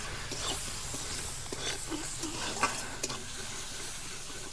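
Chopped onion fries with salt and turmeric in a pan, a soft continuous sizzle with faint stirring scrapes throughout, fairly quiet and without talk.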